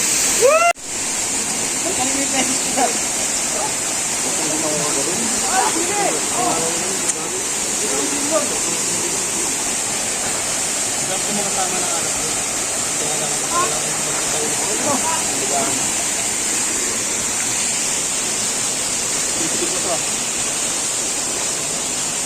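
A waterfall roars in a steady, unbroken rush close by, with people's voices talking over it for much of the time.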